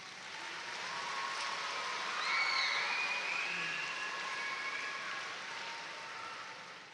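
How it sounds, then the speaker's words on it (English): Sustained applause from an audience at a youth empowerment gathering, a soft even wash of clapping that swells in the middle and fades slightly at the end, heard from a distance. "give that a round of applause"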